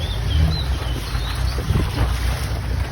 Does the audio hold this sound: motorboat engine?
yes